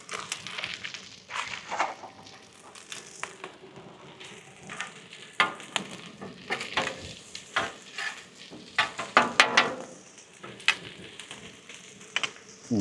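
Vegetables and butter sizzle on a Weber Slate 36-inch griddle, a soft steady frying hiss broken by frequent scraping and stirring strokes of a spatula across the flat top, close and moderately loud.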